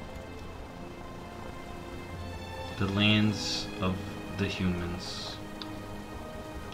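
Gentle rain falling in Elwynn Forest in World of Warcraft, a soft, steady patter beneath someone speaking over it.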